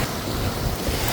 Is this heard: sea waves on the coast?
yes